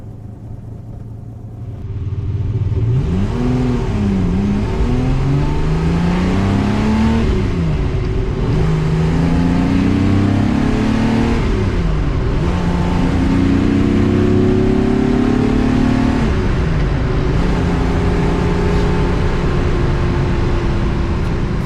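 A Ferrari 250 GTE engine idling and revving as the car is turned around, a loud close rumble with repeated rising and falling revs over a steady low drone, no voices.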